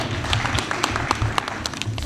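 Audience applause at an annual community function in Faisalabad: dense, steady clapping from a crowd lasting the whole moment, moderately loud and close, with no speech over it.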